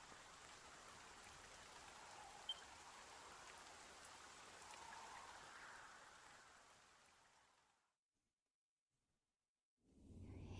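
Steady rain pattering down in Dragon Quest I HD-2D Remake, a dense even hiss of drops that holds for several seconds, then cuts to silence before another sound starts at the very end.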